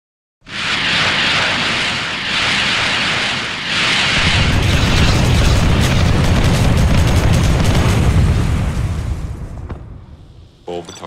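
Booming artillery explosions from a fire mission in the real-time strategy game Generals Zero Hour, loud and continuous, with rolling blasts merging into a sustained roar that fades near the end; a game voice line sounds over it.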